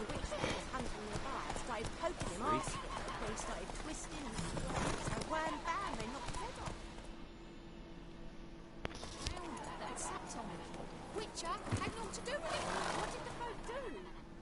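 Horse hooves clip-clopping steadily at a run in the video game The Witcher 3, with an occasional whinny, heard under a man's speech throughout.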